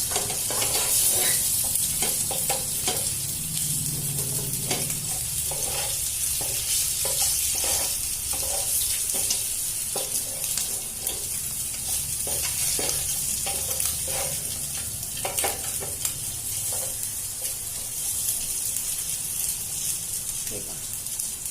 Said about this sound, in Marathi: ब्राऊन रंगाचे होईपर्यंत थोडे शेकून घ्यायचे